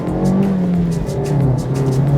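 A 2015 Mazda 2 with a six-speed manual gearbox accelerates hard up a motorway on-ramp, its engine droning loudly from inside the cabin and dipping in pitch as it shifts gear.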